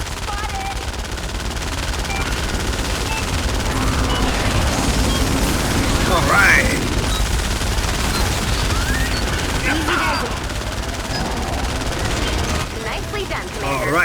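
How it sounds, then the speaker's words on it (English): Machine gun fire in Fortnite rattles in a dense, continuous looping burst that runs the whole stretch, with a voice briefly speaking over it. "What's going on with that machine gun?"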